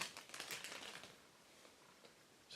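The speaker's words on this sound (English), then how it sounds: "it is wrapped in a clear plastic bag packaging, and let's go ahead and take it out from it." A Grand Seiko Maneki-neko watch is pulled from a clear plastic bag, giving close crinkling and rustling that is busiest at first, then fades to faint crackles.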